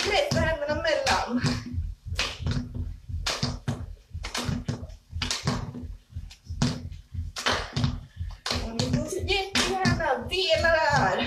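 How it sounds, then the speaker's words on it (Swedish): Hands slap on knees in a group gym workout, a steady series of sharp claps in time, close and clear, with voices talking between and over the slaps. "Då ska vi lyfta på ena benet och klappa på knät"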